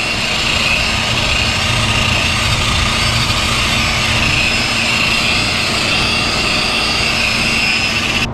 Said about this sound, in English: the SEESI polisher buffer makes quick work of a big job and brings your pretty paint back to life